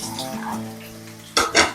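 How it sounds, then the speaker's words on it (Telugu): Chopped onions with mustard seeds and cumin sizzle in hot oil, stirred by a spoon that scrapes and clatters twice against the pan near the end, close and fairly loud. "ఈ ఆనియన్స్ కొద్దిగా గోల్డెన్ బ్రౌన్ కలర్ వచ్చేంత వరకు ఫ్రై చేసుకోవాలి"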